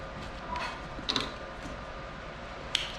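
A Techsew 1660 sewing machine runs in reverse for a couple of stitches, giving soft mechanical clicks and creaks with two sharper ticks over a low steady hum, close by and fairly quiet.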